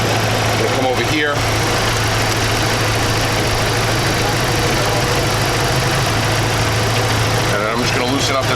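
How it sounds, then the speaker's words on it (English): A Jeep Wrangler TJ engine idles steadily and loudly up close with a low, even rumble, while brief clicks and handling noises come through near the start and end. "the engine should stay running because the alternator should put out enough electrical power to run the engine"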